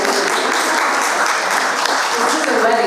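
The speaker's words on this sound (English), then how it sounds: "you can clap" An audience claps steadily throughout at a festival event as a drummer and writer is introduced, a dense, continuous wash of hands at even loudness with no pauses.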